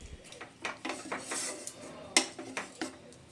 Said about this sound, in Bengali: আবারও আমি খুব ভালো করে নেড়ে দেব।